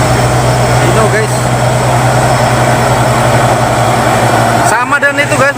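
Hino truck engine idling with a constant, loud low-frequency rumble, hauling a heavy load of about 63 tons; brief voices break in near the end.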